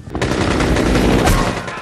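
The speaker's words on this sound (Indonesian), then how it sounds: "Dengan senjata AK-47 di tangan, pemberontak itu memberondong tembakannya ke kerumunan orang-orang dengan membabi buta." Continuous burst of AK-47 automatic fire in a film, rapid and loud, sustained for about two seconds with a dense crackling texture.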